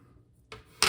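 Plastic bottom case of a Lenovo ThinkPad P53s laptop popping loose as a plastic pry tool works it free, two quick close snaps, the second sharper and louder.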